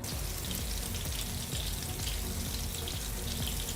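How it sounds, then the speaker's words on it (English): Masala-coated fish frying in hot oil gives a steady, dense sizzle and crackle, loud and close, unbroken for the whole stretch with no voices. "I'm just going to fry the fish just to get it a coating of the masala"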